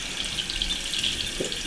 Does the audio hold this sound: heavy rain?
no